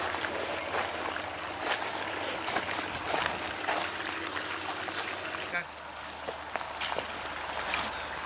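Irrigation water runs into a row of a vegetable garden in Neo Petritsi, Serres, with a continuous trickling, pouring flow. A voice speaks close by over the water.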